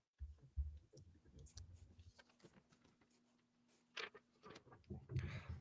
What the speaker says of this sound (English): Pencils to pads very quickly there.